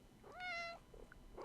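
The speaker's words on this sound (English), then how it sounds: "Was that a meow?" A cat gives a single clear meow in a quiet indoor space, a rising and falling tone lasting under half a second, followed by faint background noise.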